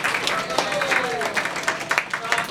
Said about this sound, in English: You can applaud her.